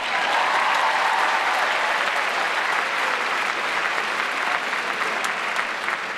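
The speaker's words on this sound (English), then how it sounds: "clap for them." A large audience applauds steadily for teacher advisors and seniors, producing a full, continuous roar of clapping that holds at a constant level throughout, with a few scattered whoops.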